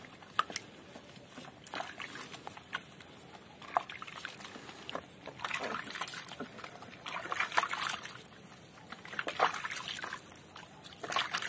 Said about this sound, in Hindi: रियो को नहलाना स्टार्ट हो रहा है।